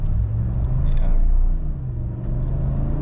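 A 2021 Ram 1500 pickup fitted with a Pedal Commander accelerates. A steady low engine rumble and road drone are heard from inside the cab, moderately loud and fairly even throughout.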